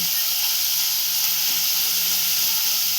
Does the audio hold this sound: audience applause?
no